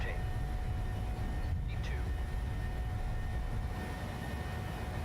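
PMDG 737 jet engines on the takeoff roll in Microsoft Flight Simulator, a steady loud broadband roar with a low rumble and faint whining tones, constant throughout.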